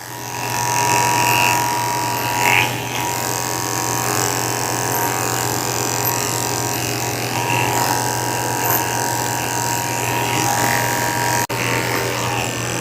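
Electric clippers with a thin blade buzz steadily while shaving hair at the corners of a Yorkie's eyes, a loud, close, continuous hum with a faint rattle and brief changes in pitch as the blade moves.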